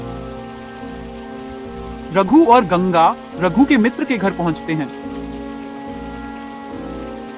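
Heavy rain keeps up a steady, even hiss beneath a narrator telling a story, running on before, through and after the speech.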